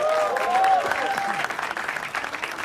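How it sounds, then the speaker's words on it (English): Studio audience at a comedy talent show applauds a guest, a loud sustained round of clapping with some crowd noise and a voice at the start, gradually thinning toward the end. "Can we have a round of applause for Alia Bhatt?"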